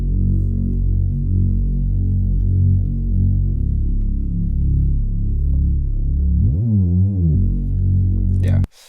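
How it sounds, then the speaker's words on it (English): Deep synth bass from a Serum preset, loud and sustained, with a rising wobbling pitch sweep near the end before cutting off abruptly; no voices. "So this is how the bass sounds."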